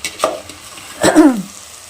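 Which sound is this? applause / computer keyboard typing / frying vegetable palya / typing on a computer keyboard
frying vegetable palya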